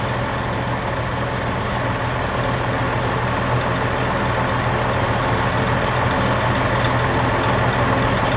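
An old diesel truck with no emissions equipment, straight turbo and straight exhaust, runs at a steady loud idle, a continuous low rumble with turbo whine on top, close by.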